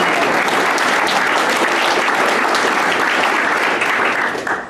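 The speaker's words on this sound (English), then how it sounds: "let's give it a round of applause for that" A crowd at a local dairy festival breaks into steady, dense applause, loud and sustained, fading slightly at the end.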